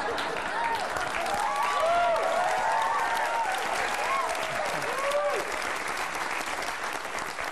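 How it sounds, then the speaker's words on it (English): Steady applause from a sizable audience, many hands clapping continuously, with a few voices calling out faintly beneath it. "not sure what that applause means"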